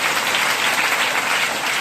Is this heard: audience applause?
yes